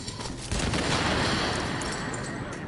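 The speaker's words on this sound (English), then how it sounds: "I do have a grenade, so let's go ahead and toss that over there" A grenade goes off in The Division, a tactical shooter game: a sudden loud blast half a second in, followed by a dense, sustained roar of rumbling debris and crackle that slowly fades, with no talk over it.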